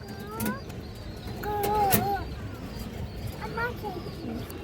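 Pigeons coo softly in a loft housing black-marked pigeons, with a few low throaty calls rising over a murmuring background, while someone talks intermittently nearby.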